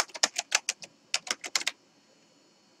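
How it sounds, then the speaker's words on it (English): Password being typed on a computer keyboard: two quick bursts of key presses, about six clacks then five, up close and alone, followed by quiet. "You type that in, and then click on Login."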